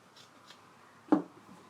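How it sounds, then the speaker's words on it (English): Scissors snip once through fabric beside a zipper on a handmade earbud case, a single short, crisp cut standing alone against a quiet room. "take another pair of scissors and you're just going to trim off that zipper"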